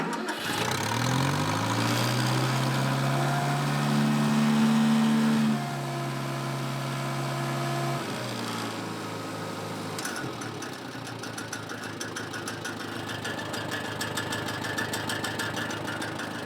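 An International Harvester 284 tractor engine cranks and catches, revving up loudly, then drops into a steady rumbling idle that continues close by.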